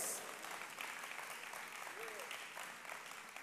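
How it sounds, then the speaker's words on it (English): Steady hand clapping during a church praise service, a continuous broad patter at moderate level with a voice faintly underneath throughout. "I wish I wasn't clapping by myself"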